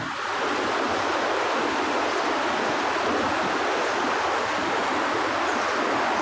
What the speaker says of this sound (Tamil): இந்த இடத்துல கீழே வந்து ஆறு போகுது ஆறில் தண்ணி போகுது சவுண்டு நல்லா கேட்கும்